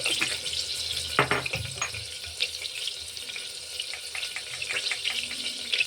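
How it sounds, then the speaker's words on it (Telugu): Mustard seeds and chana dal tempering in hot oil for homemade tomato rice crackle with a steady, close broadband hiss, punctuated by a few sharper pops and spatters. "ఆయిల్ హీట్ అయ్యాక ఇందులో పోపు సామాన్ అయితే వేసుకుంటున్నాను"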